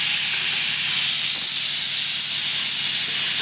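Ginger garlic paste sautés in hot oil for a mutton pepper soup, giving a loud, constant close-up hiss with almost no variation throughout.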